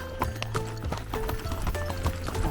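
Horse hooves clip-clopping steadily on a trail during an endurance ride, a close, regular rhythmic beat of footfalls, with a horse whinnying and faint talk in the background.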